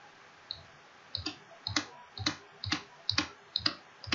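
Keyboard arrow keys tapped repeatedly while editing layer blend modes in Photoshop, about eight crisp, close clicks coming in an uneven rhythm with short gaps and no voice.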